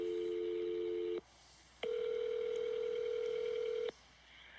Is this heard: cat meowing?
no